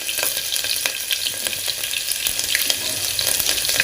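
Finely chopped green chillies hitting hot oil with fennel and cumin seeds, giving a loud, dense crackling sizzle that stays steady and close throughout, with no talking.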